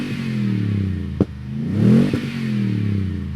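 A 2019 Toyota Tundra TRD Pro engine revs up and settles back in one deep, rumbling surge, heard close and alone, with a sharp clack just before the climb.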